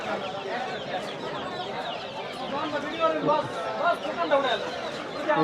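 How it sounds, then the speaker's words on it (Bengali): Native chickens and roosters cluck and chatter in a crowded rural riverside market, with ducks and geese also present; the fowl sounds form a steady, dense backdrop beneath constant talk from the crowd. "অসংখ্য মুরগি আছে দেখতে পাচ্ছি দেশি মুরগি মোরগ হাঁস সবই আছে"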